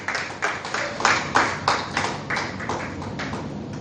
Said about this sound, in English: Ladies and gentlemen, big round of applause for the co-founder CEO of Super Analytics